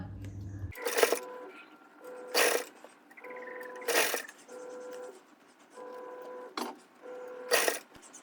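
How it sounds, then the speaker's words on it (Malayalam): A sewing machine stitches lace onto a back-open blouse in about six short, loud bursts separated by quieter pauses, heard up close. "ഇതുപോലെ കറക്റ്റാക്കി വെച്ചിട്ട് സ്റ്റിച്ച് ചെയ്തെടുക്കാം"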